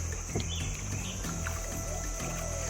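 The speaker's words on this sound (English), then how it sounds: "the gentle splashes from his pole" Gentle, irregular water splashes from a pole pushing a raft along a quiet countryside river, heard softly and close against a steady low rumble, with faint occasional bird calls.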